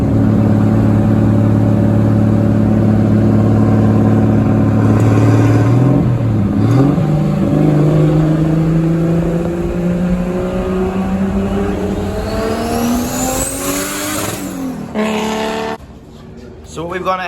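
Pontiac Vibe engine pulls through the gears as the car drives, harmonics climbing and dropping across several shifts, loud from the cabin before the drone eases off near the end.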